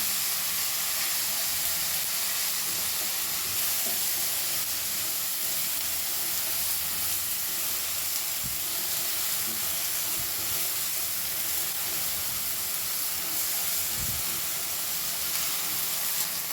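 Turmeric added to hot oil gives a steady, even sizzle and hiss that runs unbroken throughout, with no talking.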